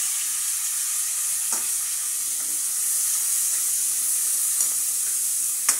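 Tomato and onion are sautéed in hot oil for mungo, a close, steady hissing sizzle with a few soft stirring scrapes and clicks and no one talking.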